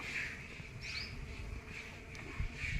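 Flies buzz around livestock in a cattle shed, a constant thin whine that swells and fades as they pass near, with quiet farmyard background and no speech.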